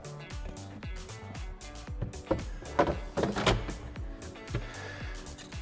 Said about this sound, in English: Now we put in the next drawer.